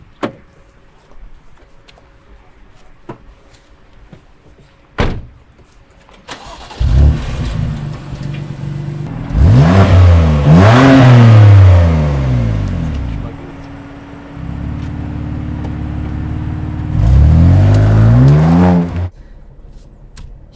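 A BMW M2 Competition fitted with a Remus exhaust starts up on a test area with a sharp bark, then idles and revs in several loud, rising bursts that settle back to a burbling idle between them.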